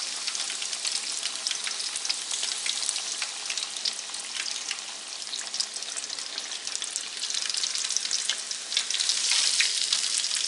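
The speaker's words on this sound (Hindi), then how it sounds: "ये फिश जो है बहुत ज़्यादा क्रिस्पी फ्राई हो गई है" Fish frying crisply in hot oil for a spicy Lahori-style fish fry, a dense, steady sizzle with fine crackling pops running continuously at a moderate level, close by and without speech.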